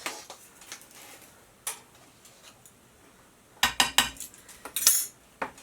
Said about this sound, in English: I'm just kind of mixing my dry ingredients with a fork here in my 9x13 pan